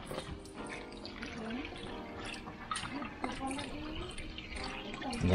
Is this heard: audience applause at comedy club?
no